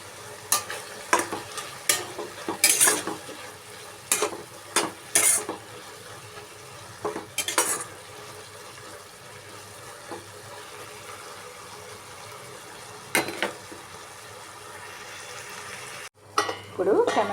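Tomatoes cook down in a pan, a quiet steady sizzle with scattered sharp clinks and scrapes of a utensil, then a brief clatter and a pause near the end.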